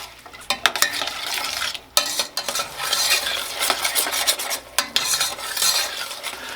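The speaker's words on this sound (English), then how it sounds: "And just saute this until the veggies are tender." Chopped onion and minced garlic sauté in a pan while a utensil repeatedly scrapes and clinks against it, giving irregular stirring strokes over a continuous sizzle.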